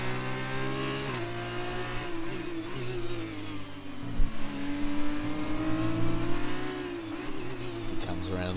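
A simulated F2 race car engine at the Sochi circuit holds a steady high whine through the final corner, pitch dipping slightly then rising again as it accelerates, with a commentator talking over it.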